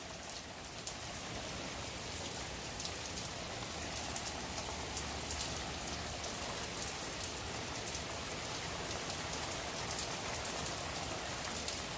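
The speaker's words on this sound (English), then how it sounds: "Nothing like a good little rain." Rain pours steadily on outdoor surfaces, a continuous dense patter and hiss at an even level throughout with no voices.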